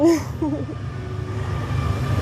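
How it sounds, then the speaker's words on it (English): A train passes by, a low steady rumble of rolling wagons filling the background throughout, with a brief voice at the start. "I'm sorry, y'all, the train coming through."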